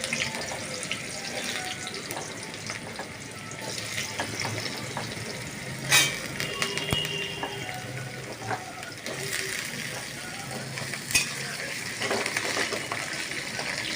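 Potatoes frying in a pan give a steady sizzle with occasional clinks and small pops, close and moderately loud.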